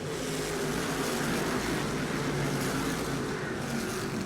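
Tri-Track modified race cars roar off turn four at a race track after a caution, a dense, loud, unbroken wash of engine noise from the pack.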